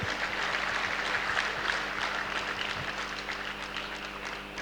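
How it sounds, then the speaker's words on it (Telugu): A crowd at a rally in Tirupati applauds, a dense patter of many hands clapping at once, moderately loud and steady before easing slightly. "గట్టిగా చప్పట్లు కొట్టుకుంటాము"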